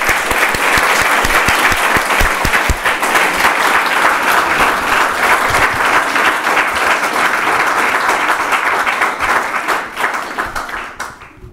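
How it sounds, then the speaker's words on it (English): A large audience applauds warmly at an Armenian Genocide commemoration symposium, dense continuous clapping sustained for about ten seconds before tapering off near the end. "I would like to have a big applause for Professor Stone."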